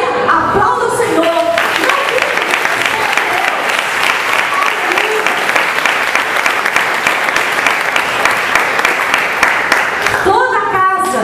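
A church congregation applauding: loud, dense clapping from a large crowd that runs for several seconds and then fades, with a voice speaking over the start and the end.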